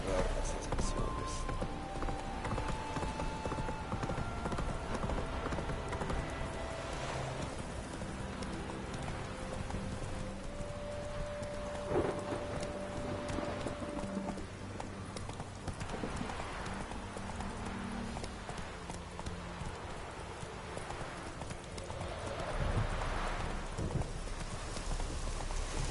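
Roach, a horse in The Witcher 3, galloping with a long, continuous drumming of hooves under light rain and game ambience, with a voice speaking at times over the hoofbeats.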